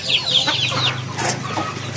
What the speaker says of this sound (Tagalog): Ito na pala yung ating mga inahing manok